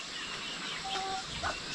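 Chickens and a rooster cluck faintly at dusk on a rural home in the Philippines, a couple of brief calls over steady outdoor background noise.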